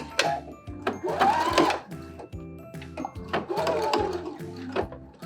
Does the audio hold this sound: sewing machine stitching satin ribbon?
yes